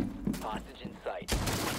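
Gunfire in a Michael Myers-themed video game, a quick burst of sharp shots with a loud crack near the end, layered under voices talking.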